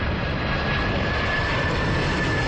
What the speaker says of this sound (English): And one more plane before I get on the train to film.